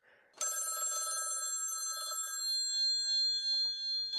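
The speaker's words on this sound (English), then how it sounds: "Hey, it's the studio phone." A studio telephone rings loud and close, a bright electronic trill that starts abruptly and holds steadily for several seconds with no talk over it.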